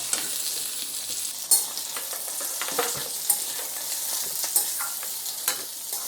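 Potato and eggplant pieces fry in a small amount of mustard oil in a kadai, giving a steady close sizzle broken by occasional sharp clinks and scrapes of a spatula stirring them, with no talking.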